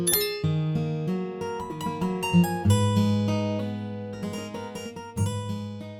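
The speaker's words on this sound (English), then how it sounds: "Next up we have the Ample Guitar Lite." Ample Guitar Lite, a free VST guitar plugin, plays a melodic run of plucked acoustic guitar notes with overlapping chords that ring and decay, clear and close with no voices.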